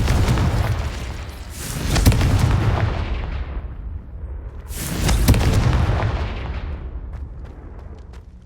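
Explosive spells burst in the video game Hogwarts Legacy, two big booming blasts a few seconds apart, each with a sharp crack followed by a long rumbling decay, loud and close.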